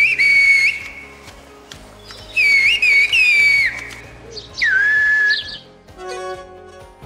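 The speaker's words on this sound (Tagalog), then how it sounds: "Ang mga residente dito ay nag-uusap na walang lumalabas na salita, kundi puro sipol" Villagers hold a conversation in Turkish whistled bird language: loud, piercing whistles in long gliding and warbling phrases trade back and forth between pauses, close by, with faint background noise.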